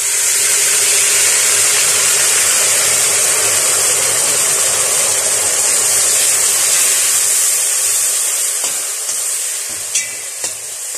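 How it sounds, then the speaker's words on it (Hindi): Water poured into a pan of frying Kashmiri red chilli, red chilli and turmeric sets off a loud, steady sizzle and hiss that eases off toward the end, broken by a few light clinks, with no speech. "आपने हल्का पानी देना है ताकि जले ना।"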